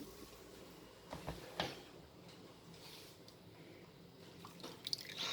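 Blanched green beans, shocked in cold water, being drained before going onto a tray for pickling: soft, quiet drips and small trickles of water, close by, with a few sharper drops.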